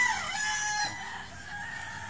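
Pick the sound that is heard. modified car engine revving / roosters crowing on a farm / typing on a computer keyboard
roosters crowing on a farm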